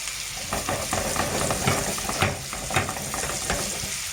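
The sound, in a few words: beef steak frying in melting butter with rosemary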